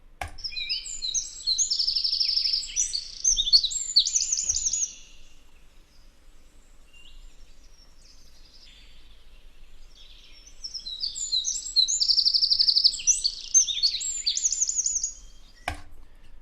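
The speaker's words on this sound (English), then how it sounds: "So as soon as you hear this little trill, you're like, all right, that's a Wren probably." Wren song played back in a cemetery park, two bursts of rapid high trilling phrases with a quiet pause between them, clear and fairly close.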